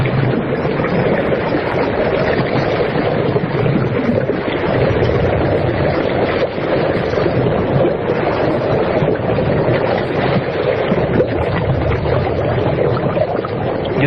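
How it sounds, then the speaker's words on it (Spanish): Steady broadband sea sound with a dense, bubbling wash running continuously at an even level, no voices over it. "Yo escucho personalmente un sonido del mar, y había una especie como de burbujeo o algo extraño, como muy interior"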